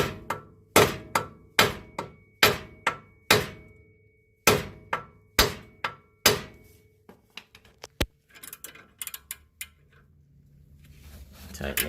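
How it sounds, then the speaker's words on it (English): A series of loud, sharp metallic hammer blows on a strut spring compressor at a steady pace, about ten strikes, followed by lighter clinks and handling noises, during Nissan Frontier front strut replacement. "You want to bang it again with the hammer."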